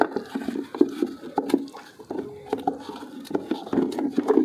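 Water rushes and patters into a toilet cistern as the flush valve refills, a steady close splashing with irregular gurgles and clicks throughout.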